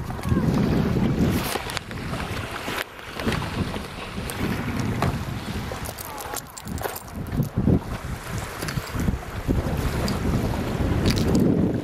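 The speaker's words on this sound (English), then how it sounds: "It's very windy right here right now." Strong wind gusts across the microphone on open water near a cruise boat, a constant roaring buffet with waves and shifting bursts, no voices heard.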